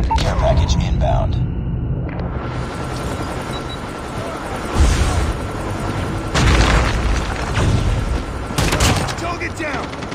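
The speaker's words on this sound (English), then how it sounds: "Friendly Predator missile inbound." In the COD Mobile video game, a Predator missile strike lands with heavy booming blasts and gunfire, loud and close. Several explosive bursts recur over a rumbling background, and game voice callouts are heard.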